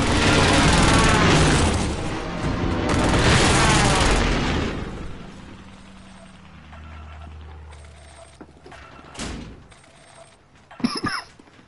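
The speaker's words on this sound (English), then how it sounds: "Friendly precision airstrike inbound." Precision airstrike explosions in Call of Duty Warzone, heavy rumbling booms and bursts filling the first few seconds, then fading into quieter battlefield noise with a few sharp cracks near the end.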